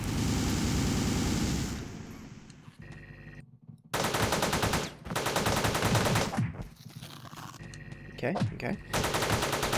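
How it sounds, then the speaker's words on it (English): Rapid automatic gunfire from the top-down action video game Teleglitch rattles in long, loud bursts broken by short gaps, with a single brief spoken word near the middle. "why is my gun going all over the place?"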